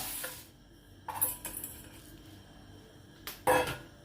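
Horse gram poured into a pan on the stove gives a few brief rattling clatters of dry grains hitting metal, separated by quiet pauses.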